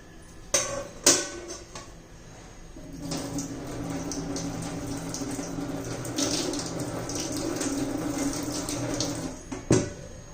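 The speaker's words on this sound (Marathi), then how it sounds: "आपण ती पाण्यातून काढून घेऊ पिळून घेऊ" Water flows and splashes steadily for several seconds as cooked red amaranth leaves are lifted from water and squeezed, framed by a few sharp clinks and knocks at the start and end.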